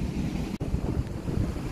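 Sea waves roll onto the shore at a beach campsite in Rompin, a continuous rushing surf heavily mixed with wind buffeting the microphone, close and steady.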